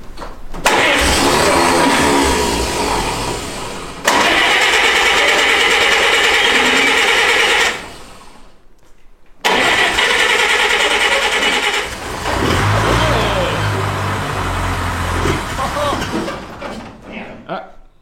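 A 70-year-old Citroën type HY van engine cranking and catching twice, loud and close, each run lasting a few seconds before cutting out, with people talking nearby between attempts.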